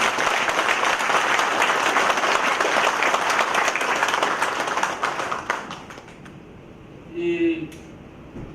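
A concert audience at a memorial event claps in a loud, sustained round of applause that fades out after about five seconds, followed by a short voice.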